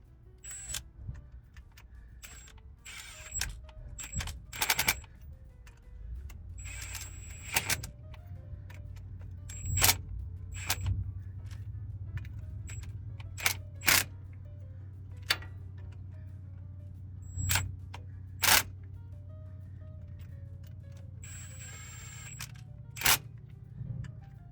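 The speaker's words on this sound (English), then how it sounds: "we're gonna go ahead and do it with the torque wrench." A torque wrench tightens bolts to 54 foot-pounds on a CAT C0.5 APU. Sharp, isolated metallic clicks and ticks sound at irregular intervals over a quiet, low hum in a workshop.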